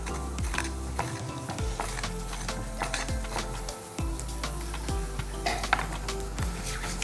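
Hot oil sizzles steadily in a pan while fish is prepared for frying, a dense, close crackle with irregular clinks and scrapes of stirring throughout.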